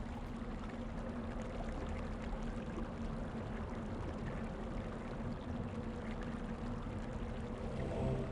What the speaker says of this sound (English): It looks like the water of the stream flows directly into the center of the earth from here.